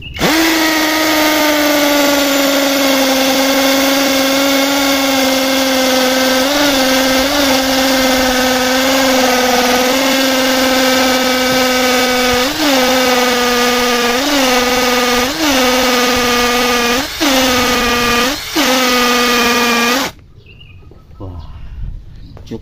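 A 10mm drill bit in a power drill whines loudly and steadily, pitch dipping in repeated strained pulses as it grinds into hard split stone, then abruptly stops, leaving quiet.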